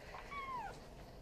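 A cat meows once at a veterinary clinic, a single clear, falling cry over a steady low room hum.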